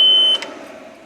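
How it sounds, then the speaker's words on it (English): A Boxer 320 mini skid steer gives a single short, steady electronic warning beep at key-on, then a cooling fan's soft, steady whir carries on alone. "So when you turn it on, it's got that crazy beep."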